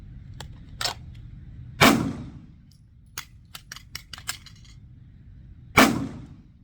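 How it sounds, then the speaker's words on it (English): A handgun slide is racked, turned horizontal and slingshot, producing sharp metallic snaps and clacks: two loud, close slide releases several seconds apart, with lighter clicks and rattles of handling in between and no talking. "you can turn the gun horizontal and rack it or slingshot it that way"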